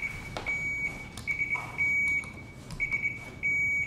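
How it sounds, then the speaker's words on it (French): Several electronic quiz-competition buzzer beeps being tested, steady high tones lasting about half a second each, sounding in quick irregular succession with a few clicks between. "On va tout de suite tester les buzzers pour être sûr."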